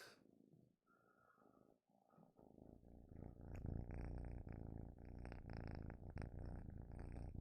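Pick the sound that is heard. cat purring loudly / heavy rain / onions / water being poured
cat purring loudly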